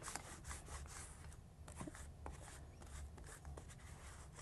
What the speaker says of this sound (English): we're going to grab our sticky lint roller and we'll just go over the area that we're about to sublimate